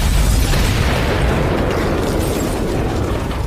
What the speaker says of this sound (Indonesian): melepaskan tembakan dan menghancurkan mobil